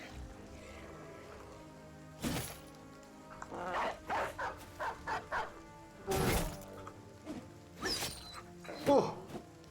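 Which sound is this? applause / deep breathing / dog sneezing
dog sneezing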